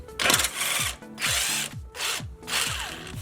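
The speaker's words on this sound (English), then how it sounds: "now it's time to remove the 14mm bolts from this thingy-majiggy" A power tool removes the 14mm bolts from the front sway bar mounting bracket on a BRZ/FRS/86. It whirs and rattles in three loud, close bursts with short pauses between them and no talk.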